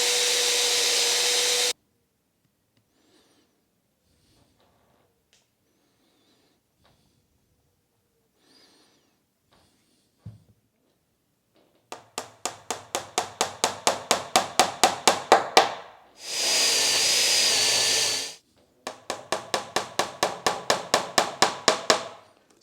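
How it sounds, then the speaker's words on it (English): A power drill bores holes for wooden dowels 40 millimeters long and 8 millimeters thick, with a long stretch of near silence before it and rapid rattling bursts of hammering and whirring on both sides of a steady motor whine. "The next thing up is to drill holes for the dowels"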